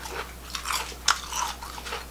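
Crisp crunching bites and chewing of a crispy chive and oyster pancake, a few distinct crunches close to the ear, with one sharper snap near the middle.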